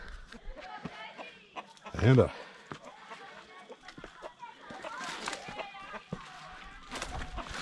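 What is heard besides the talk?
chickens clucking on a farm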